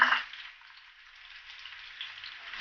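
Onion drops into hot oil with spluttering mustard seeds: a louder burst at first, then an even, close, continuous frying hiss with no talking.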